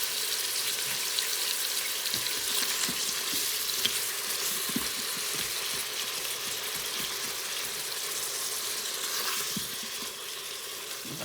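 A pound of Jenny-O ground turkey dusted with chili powder sizzles steadily in a pan, a constant close crackle with faint scrapes now and then and no voices.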